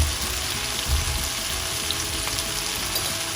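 Chicken sautéing in a pan makes a constant, even sizzle up close, with faint low bumps of movement and no talk.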